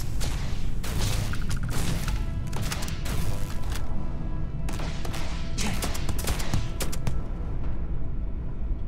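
Gunfire from a weapon in the video game Starfield: dense, loud bursts of shots in rapid, uneven clusters, layered over a constant rumble of game noise for the whole stretch.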